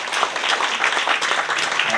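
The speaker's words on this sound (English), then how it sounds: "round of applause to the people that make this happen" Loud, dense audience applause at a public talk event, steady rapid clapping filling the short stretch without a break.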